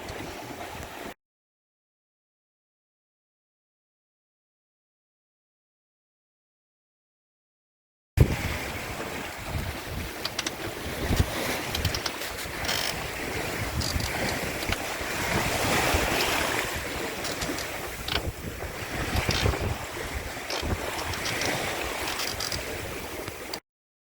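Rough sea and gusting wind around a sailboat on a spring cruise: loud, continuous wash of waves and wind buffeting the microphone, cut by a silent gap early on.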